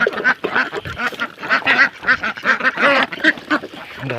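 A flock of ducks kept loose in an open yard quacks busily and continuously at close range while being given homemade feed, many overlapping calls with no pauses.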